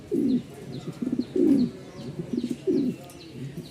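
Repeated low coos in bursts from a pair of large Giribaz pigeons, close by, with soft throaty rolling notes and brief pauses between calls, no talking.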